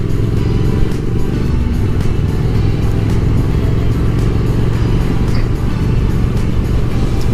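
A motorcycle ridden fast through a new roundabout, its engine droning loud and steady throughout with continuous low rumble and road noise, no pauses or speech over it.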